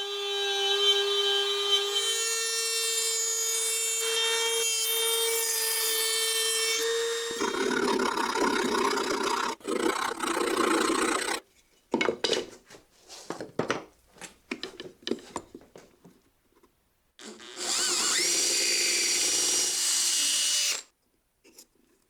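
Power tools on wood for a table saw lift build, strips nailed on temporarily and a slot routed out: a steady tonal machine whine, then loud broadband routing bursts, scattered knocks and a final sustained roar.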